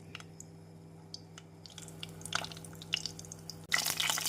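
Refined oil is poured into a pan for frying sweet potato cakes: quiet liquid trickles and small drips with light clicks, ending in a sudden louder burst of hissing.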